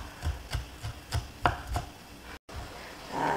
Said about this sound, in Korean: 실파 송송 썰어서 바로 그냥 완성 접시 담을 거예요.